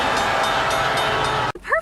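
A train passes a rail crossing as a car approaches: a loud, steady, close rumble fills the first second and a half, then cuts off abruptly and a voice follows.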